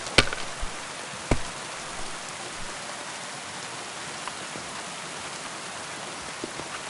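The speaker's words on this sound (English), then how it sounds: "Pissing down rain" Steady heavy rain pours in the medieval video game Kingdom Come Deliverance 2, a dense continuous hiss with a couple of brief knocks near the start.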